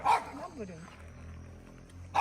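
A neighbour's dog barking far off in a rural yard, two faint barks at the start and end, heard under someone talking close by.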